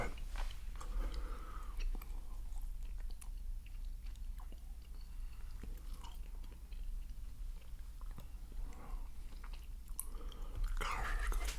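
Bubble gum candy is chewed close up in a quiet room, soft wet smacking and faint crunchy bites repeating steadily throughout.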